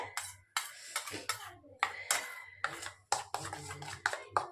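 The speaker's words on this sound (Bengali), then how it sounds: "এখন এটাকে ভালো করে মিশিয়ে নিব চামচ দিয়ে।" A metal spoon mixes eggplant bhapa ingredients in a bowl, giving repeated clinks and scrapes in an uneven rhythm, close and fairly quiet, with a faint background hum.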